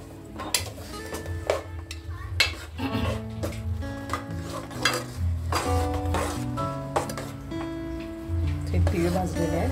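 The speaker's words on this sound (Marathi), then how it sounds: "गूळ पूर्ण वितळेपर्यंत हे ढवळतच राहायचं" Melting jaggery being stirred in a pan for sesame tilgul ladoo, heard as rough, uneven scraping and rubbing strokes under steady tonal background music.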